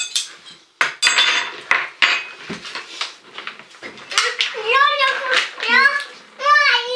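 Spoons clink and tap against dishes in a home kitchen while preparing dough with children, a series of short bright metallic knocks mixed with children's chatter and an adult voice.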